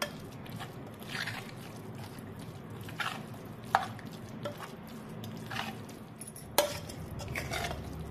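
Cooked taro leaves are mashed in a steel pot, giving soft squishy churning with occasional sharp metallic knocks of the utensil against the pot, fairly quiet and close.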